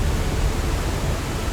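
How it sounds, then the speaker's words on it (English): Waterfall crashing right beside a bridge near Briksdal Glacier in Norway, a dense, steady roar of falling water, loud and close, with no voices. "The waterfall is crashing right by the bridge."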